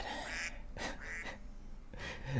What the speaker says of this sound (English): Gets me every time, the duck noise.